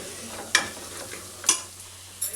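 Garam masala, chicken masala and coriander powder fry in oil for chole masala curry, a soft steady sizzle broken by three sharp stirring scrapes, close and alone.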